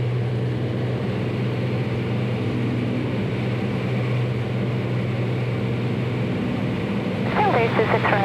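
A 2008 Cessna 400 single-engine airplane drones steadily from inside the cockpit as it slows for landing, a constant engine hum with a brief burst of radio chatter near the end.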